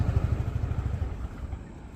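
A TVS Jupiter 125 scooter engine idles with a low, even putter that fades and cuts out as the idle-stop system shuts it off.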